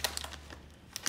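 Crinkling of a foil Grippo's BBQ potato chip bag, 4.5 ounce size, in short bursts of crisp rustling near the mic, with quiet gaps between handlings.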